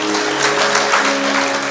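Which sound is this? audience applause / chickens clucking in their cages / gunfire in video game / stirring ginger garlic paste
audience applause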